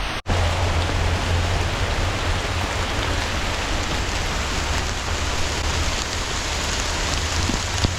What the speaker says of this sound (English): It went from a light rain to full-blown storm season, but it's like pouring out now.